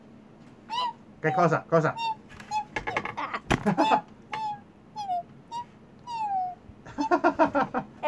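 A person imitates a high-pitched, cat-like mewing squeak with their voice, producing a run of short squeaky calls and sliding tones close to the microphone, mixed in with their own speech.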